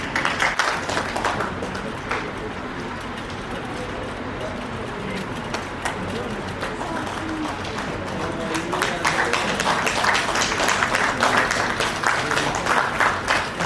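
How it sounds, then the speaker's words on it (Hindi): Audience applause at a teachers' award ceremony, steady crowd clapping throughout that swells louder toward the end, with some talk mixed in. "तो थोड़ी बहुत ताली बजा दी"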